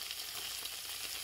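Onion and garlic paste fry in a pan for an Indian daal as half a tomato is added, giving a loud, steady sizzle with a bright hiss throughout.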